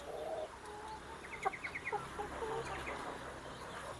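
Kampung chickens and roosters in galvanised battery cages cluck in a short run of quick calls over a steady farmyard hum, moderately distant with no talking.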